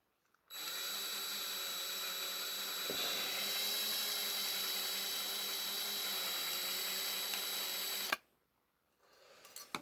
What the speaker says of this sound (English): we'll gently just drill these out